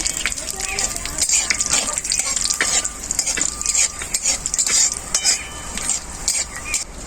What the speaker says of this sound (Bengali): শুকনো লঙ্কা দিয়ে দেব।